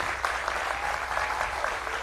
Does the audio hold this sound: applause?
yes